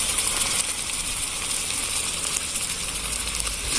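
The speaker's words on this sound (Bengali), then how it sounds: "খুব ভালো করে মশলাটাকে কষিয়ে নেব" Onion and spice paste with ginger-garlic paste, turmeric, chili powder, cumin and salt frying in a pan for a pangas fish curry, a steady close sizzle with continuous hiss and no pauses.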